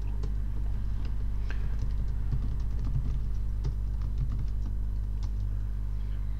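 Steady typing on a computer keyboard, many light close key clicks in an uneven rhythm over a constant low hum, with no voice.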